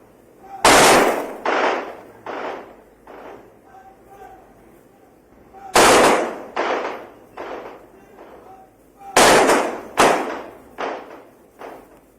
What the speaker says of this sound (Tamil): காவல்துறையின் துப்பாக்கி குண்டுகள் முழங்க அவரது உடல் தகனம் செய்யப்பட்டது.